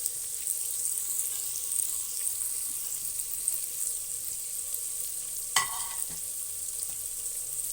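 Small onions sautéing in a pan for gongura pachadi give a steady, moderate sizzle with a single sharp utensil knock partway through. No one speaks.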